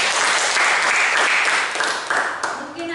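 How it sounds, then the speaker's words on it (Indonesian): Applause from an audience after a presentation in an academic coaching session, dense and steady for about three seconds before thinning out near the end. "Oke, tepuk tangan."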